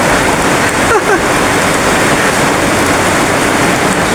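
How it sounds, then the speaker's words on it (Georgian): Heavy rain pours down in a loud, constant roar, a dense unbroken wash of noise close by. "ნახეთ სადამდე წვიმს"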